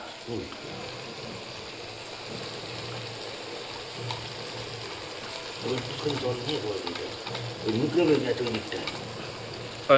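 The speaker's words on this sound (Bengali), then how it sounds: "মশলা দিয়ে কষা চলছে" A spice paste of ginger, garlic and chilli with fried tomato and onion sizzles in a pan while being stirred, soft scraping and frying under people talking nearby, growing busier toward the end.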